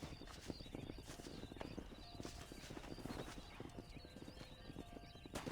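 Horse hooves clip-clop in a steady trotting rhythm in Red Dead Redemption, close and even, with a brief whinny and faint game ambience underneath.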